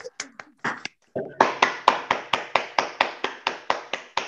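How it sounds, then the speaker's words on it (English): Applause at a graduation ceremony for university graduates, heard as sparse taps that grow into one close, regular clap repeating about every quarter second, with a short spoken sound near the start. "give you a big round of applause to our esteemed graduates"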